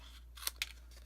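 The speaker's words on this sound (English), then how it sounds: "use a scissors to trim that off" Two quick, crisp snips of scissors trimming paper for a craft project, close and fairly quiet, the second cut following shortly after the first.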